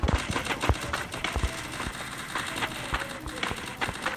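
Rapid bursts of gunfire in the game Free Fire crackle in quick succession, loud and close, with a steady background hum beneath the shots.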